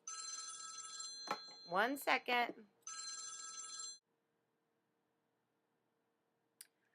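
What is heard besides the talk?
telephone ringing during lecture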